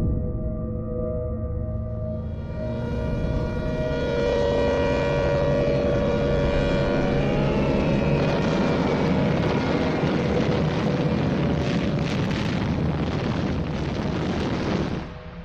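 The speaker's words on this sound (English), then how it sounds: "But there was no escaping the bombers." 1930s archival film sound of bomber aircraft over Chongqing: a steady, loud droning roar of engines with a wailing tone, continuous throughout and growing denser and harsher toward the end, no voices.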